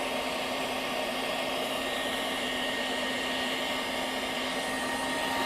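A Ryobi 18V HP mid-size spot cleaner running its vacuum and pump together, a loud, steady, close whirring roar with a constant motor whine.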